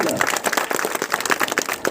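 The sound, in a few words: applause welcoming a guest at a political meeting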